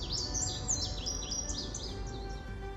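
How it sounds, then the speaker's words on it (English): An indigo bunting sings on a rewilded family nature trail, its quick high paired chirps repeating in a steady run of phrases. The song carries at moderate distance over a constant low outdoor rumble. "Listen carefully, and maybe you'll hear the indigo bunting."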